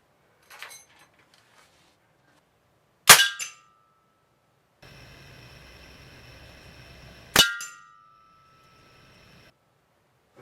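Two sharp, loud pellet impacts from an air gun (Daisy 880 or Ruger Air Hawk Elite II) striking a can, spaced a few seconds apart, with a faint earlier tap and a steady hum between them.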